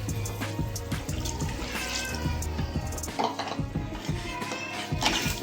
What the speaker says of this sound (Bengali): এবার আমি বাটি দেওয়া জলটা দিয়ে দেবো। আর সাথে দেবো গ্রেভির জন্যে কিছুটা জল।